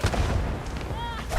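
A grenade goes off in the Starfield video game as a single loud, booming blast with a deep rumbling tail. Nothing else is heard.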